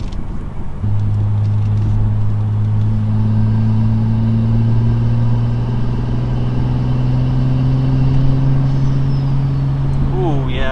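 Inside a BMW M235i fitted with Turner Motorsports hot-side and cold-side charge pipes, the engine drones steadily while a rising tone builds gradually as the turbo spools, loud and continuous from the cabin.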